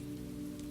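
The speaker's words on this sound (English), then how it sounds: "then the rain, still falling" Gentle rain falls steadily and softly in rainy Florence, a brief even hiss with a faint low steady hum underneath.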